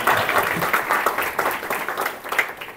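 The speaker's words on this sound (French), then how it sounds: "Vous pouvez l'applaudir." Lecture audience applauding the speaker, a short burst of many hands clapping in uneven rhythm that swells and then tapers off.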